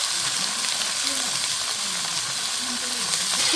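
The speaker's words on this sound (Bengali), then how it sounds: "মশলাটা একটু নাড়াচাড়া করে নিয়েছি এর মধ্যে দিয়ে দিব বাঁধাকপি" Cabbage frying in spice paste in a pan, a steady, close sizzle with soft stirring scrapes, a voice faintly heard underneath.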